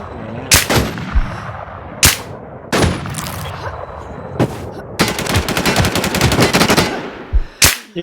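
Gunfire in a shooting video game: loud single shots spaced apart, then a long rapid automatic burst, followed by another sharp shot, close and dominant.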